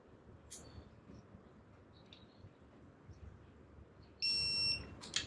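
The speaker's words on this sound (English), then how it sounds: "the snap-on should beep when we get to" A Snap-on torque wrench beeping as it reaches 30 newton meters while a bolt on a 12mm tapped block is tightened: a single sustained electronic tone about a second long near the end, after faint clicks.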